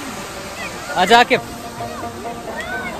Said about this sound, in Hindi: यहाँ पे ये फाउंटेन काफ़ी अच्छा लग रहा है ये। तो पानी आ रहा है ऊपर